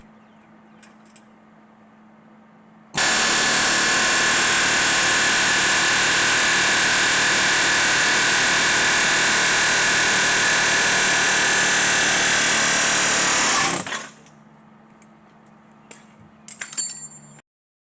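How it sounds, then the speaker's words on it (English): A pneumatic air chisel hammers a rusted rear wheel bearing out of the knuckle on a 2013 Subaru Impreza, a loud, continuous rapid rattle lasting about eleven seconds before stopping abruptly, with faint clinks afterward. "Now the bearing quickly works its way out with the air chisel."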